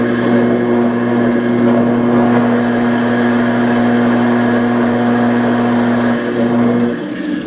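A potter's wheel spins while clay is centered on the wheel head, giving a loud, steady motor hum with a constant pitch that holds unchanged and eases slightly at the very end.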